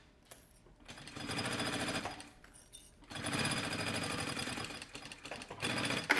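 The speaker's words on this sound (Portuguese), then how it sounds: "Vou fazer uma costurinha para segurar tudo isso." A sewing machine stitches the bottom seam of a homemade anti-theft backpack, running in two long, steady bursts of rapid needle clatter with a short pause between, close and loud.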